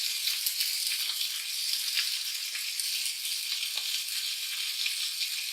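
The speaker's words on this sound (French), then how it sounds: "avec le bruit de la cuisson, on n'entend pas ce que je dis" Roasting sausage sizzles steadily in a pan, a continuous close crackling hiss with no voices over it.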